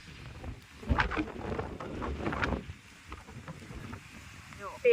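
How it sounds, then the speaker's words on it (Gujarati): Strong wind gusts from a small storm on a mango farm buffeting the microphone in low, rumbling surges that rise and fall, ending in a sudden blast. "પવન એટલો સુસવાટા મારે છે. વાવાઝોડા જેવું થઈ ગયું."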